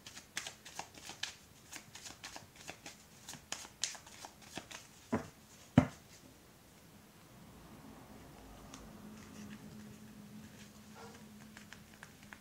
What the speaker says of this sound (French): Pourtant, j'ai mélangé le jeu